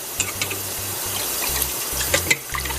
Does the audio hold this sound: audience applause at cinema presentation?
no